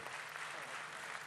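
Brief burst of audience applause for Mali at a business forum plenary, moderately distant clapping continuing throughout.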